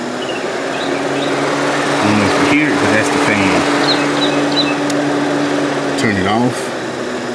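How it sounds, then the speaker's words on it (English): A Corvette C6 radiator cooling fan runs at low speed as a steady, faint whir under a broad mechanical hum, with a few brief clicks and rattles partway through. "I don't know if you hear it, but that's the fan."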